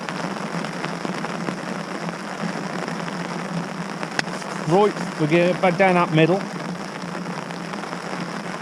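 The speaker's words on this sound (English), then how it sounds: "Could always do with a bit of rain." Steady rain hisses over a fishing bank on the last day of the season, constant and even throughout, with someone speaking briefly midway.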